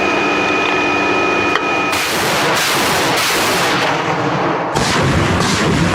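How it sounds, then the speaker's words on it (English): Loud artillery launcher firing ranging shots, with sustained roaring blasts and rumbling that fill the whole stretch, a sharp renewed burst near the end, no voices. "The first shots are usually for ranging."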